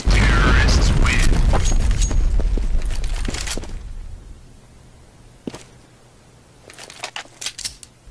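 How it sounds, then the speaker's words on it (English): A bomb goes off in CS:GO with a loud, heavy blast that rolls and fades over several seconds, followed by sparse clicks and taps. "It is going to explode."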